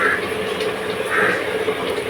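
Water poured from above onto masala cooking for soup in a home kitchen, a short steady splashing pour that carries on without pause, with a little background noise.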